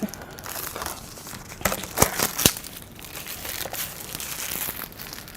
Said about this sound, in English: So I'm going to go ahead and unwrap it.